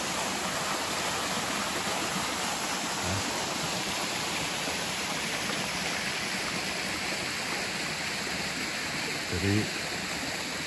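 Water rushes steadily over a small dam below the Curug Ci Se Eng waterfall at a rest area in Kutaagung village, a dense, unbroken roar close by, with a voice speaking briefly over it.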